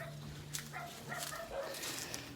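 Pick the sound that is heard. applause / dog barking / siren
dog barking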